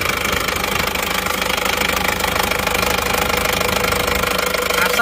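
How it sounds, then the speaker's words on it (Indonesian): Isuzu Panther diesel engine, recently rebuilt yet still faulty, revved with the oil filler cap open, giving a loud, steady rattling knock throughout with no pause. "Terus bagaimanakah dengan suara mesinnya? Ini RPM kita tinggikan"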